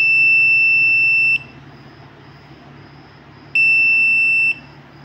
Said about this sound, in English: when the driver falls to sleep, like it will start beeping